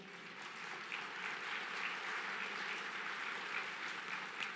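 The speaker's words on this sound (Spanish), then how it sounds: "dale un fuerte aplauso al Señor." A church congregation applauds during a sermon, sustained soft clapping heard from a distance at a low, even level, with no talk over it.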